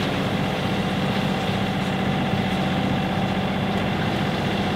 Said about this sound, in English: It feels like the engine's running smoother though.